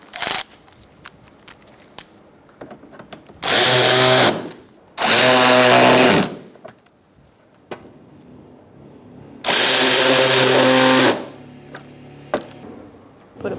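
A power tool drives bolts on a 2012-2018 Ford Focus active grille shutter in three loud, close whirring bursts of roughly one to two seconds each, separated by quiet gaps with small clicks and handling noises.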